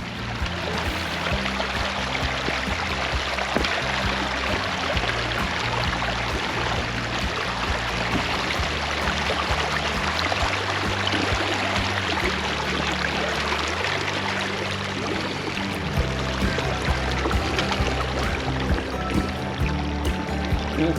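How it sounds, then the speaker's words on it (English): Box Elder Creek flows steadily over exposed rocks, a continuous broad rushing and gurgling of water that stays loud and even throughout with no voices. "it's Box Elder Creek"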